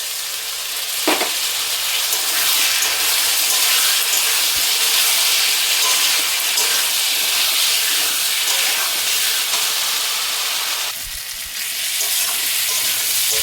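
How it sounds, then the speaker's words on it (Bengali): Water poured into a hot pan of simmering potato curry gives a loud, steady sizzling hiss that runs the whole time, with a brief sharp splash early on and a short dip and flare near the end. "জল দিচ্ছি একটু।"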